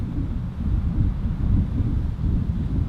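Low, gusty wind buffets the microphone in a continuous rumbling roar that swells and eases, with no other sounds.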